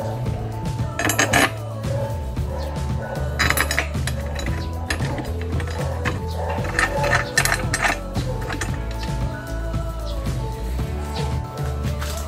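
Light metallic clinks and taps from tightening the screws on an alloy top box mount fitted to a Honda PCX150 motorcycle, scattered irregular ticks over a low steady background hum.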